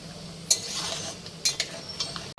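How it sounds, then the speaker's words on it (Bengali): Homemade ghee made from milk bubbles gently in a pan, with a few sharp scrapes and clinks as a spoon stirs it, fairly close and otherwise quiet. "আর মাঝে মধ্যে এইভাবে নেড়ে দিতে হবে, নিচে তাহলে ধরে যাবে।"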